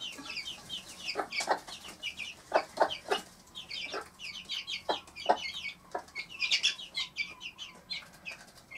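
A Marans mother hen, upset, clucks repeatedly beside her four-week-old chicks, with sharp close clucks and higher chick peeps scattered throughout in an uneven rhythm.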